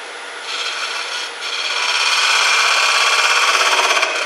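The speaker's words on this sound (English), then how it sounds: "And a 1/4 inch bowl gouge, I'm going to make my dovetail with it." A 1/4 inch bowl gouge cuts a dovetail into punky wood, giving a steady, close-up dry scraping and rasping that builds after a brief dip and holds on evenly with no talk.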